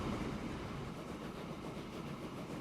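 Steady rumble and wheel clatter of a train running along a line in the Transport Fever 2 video game, continuous and even without pauses, with no talking.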